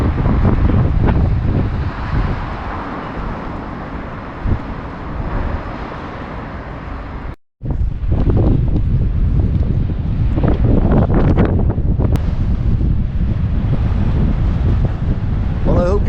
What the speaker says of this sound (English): It's a bit windy, it's a bit cold.